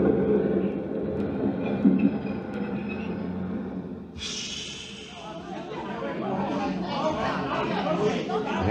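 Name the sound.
subway station ambience with train, radio drama effect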